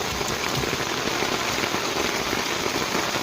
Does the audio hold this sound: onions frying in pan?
no